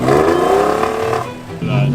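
Nissan 350Z with a rising engine rev under throttle, a brief climbing whine that dips then picks up again, close and fairly loud, with a voice speaking over it.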